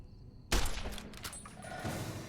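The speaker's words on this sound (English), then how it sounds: "And we're in a gunfight" Gunfight in the video game Fallout New Vegas: a sudden loud burst of gunfire erupts and keeps rattling with rapid shots and echoing impacts, trailing into a busy combat din.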